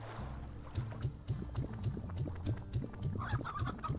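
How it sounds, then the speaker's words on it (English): Chickens in the video game Slime Rancher cluck in a steady run of short, repeated calls over a busy game soundtrack, no voices. "there's also some chickens over here."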